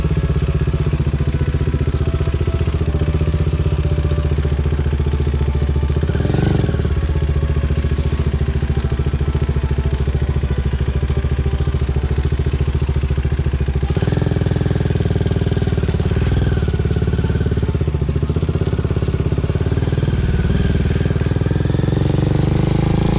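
A heavy motorcycle runs on a new diversion road with a constant loud, close engine drone. Its pitch and load shift slightly, and occasional clatter sounds over the engine.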